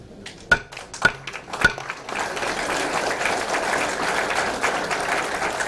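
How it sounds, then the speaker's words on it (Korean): A party founding convention audience breaks into broad applause after three sharp gavel-like knocks, the clapping swelling into a dense, steady roar that continues to the end. "격려의 큰 박수를 보내주시기 바랍니다"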